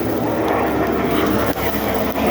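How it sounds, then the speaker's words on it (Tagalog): A helicopter drones steadily somewhere in a German residential neighbourhood, a loud, continuous broadband engine roar with no clear rotor beat and no voices. "Uy, na may helicopter."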